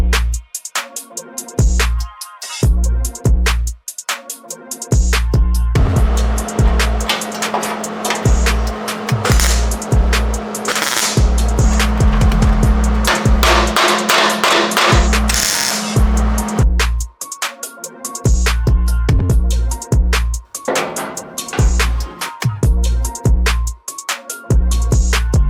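Cutting around the outside of a fender patch on an FJ40, a rough, grinding power-tool whine in repeated bursts that stop and start, close and loud, with a sustained cut in the middle.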